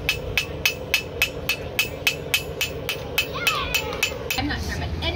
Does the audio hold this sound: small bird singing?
no